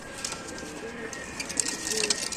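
Pigeons in a loft coo together, a low overlapping murmur of calls close by with some faint rustling and no clear speech.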